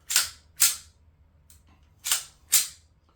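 A pistol slide racked by hand, heard as four sharp metallic clacks in two close pairs, each crisp and near with a quick decay, on an otherwise quiet background.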